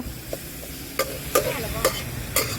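Stir-frying vegetables such as broccoli in a wok at a market stall at Rong Kluea Market, with sharp metallic spatula scrapes and clanks at irregular intervals over a low continuous sizzle and background hum.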